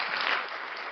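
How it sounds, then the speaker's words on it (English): A short burst of crowd applause, dense clapping filling the moment briefly at moderate volume. "a round of applause for that"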